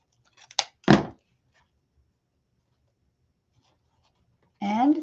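Two quick, crisp snips of scissors cut through ribbon for a wreath craft, close and distinct, followed by a long silence and then a person speaking.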